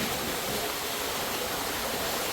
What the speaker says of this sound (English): There's the source of that waterfall.